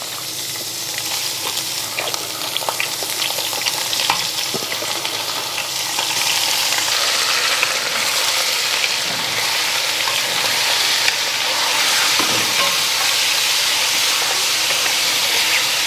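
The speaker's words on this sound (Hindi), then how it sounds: "यहाँ पे अब हम धीरे धीरे करके मीट मिला देंगे" Meat being added to well-browned onions in a pot for saag gosht, a steady loud frying sizzle with faint stirring clicks running throughout, no voices.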